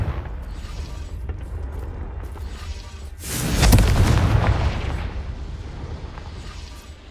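A Confringo spell explosion in the Hogwarts Legacy video game: one loud booming blast that swells suddenly mid-clip and rumbles away over a few seconds, set against a steady game background with no talk.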